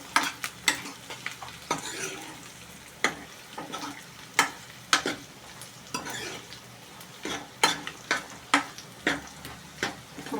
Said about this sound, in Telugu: ఉల్లిపాయ బాగా వేగాలి.